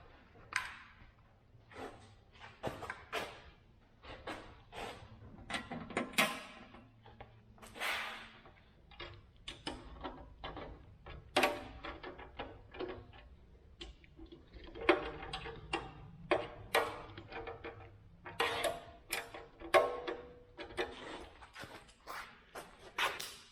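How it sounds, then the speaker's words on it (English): A ratcheting torque wrench set to 96 inch-pounds tightens bolts on a Chevy 350 short block. It gives close, crisp clicking and ratcheting bursts in an irregular rhythm, with no talk. "I've got my inch-pounds torque wrench set for 96 inch-pounds"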